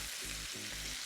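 Herb butter sizzling and frying in a pan with lamb chops, a steady close hiss with soft rhythmic stirring or basting pulses underneath.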